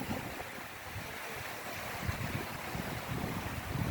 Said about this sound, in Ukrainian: Ось такі лагідні хвильки.